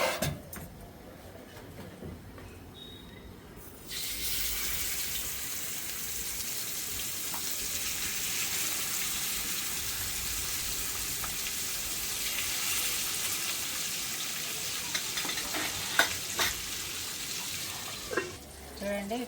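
Bangda mackerel frying in a pan, a steady close sizzle that starts abruptly after a few seconds of quiet and continues loud and even, with small pops and clatters toward the end.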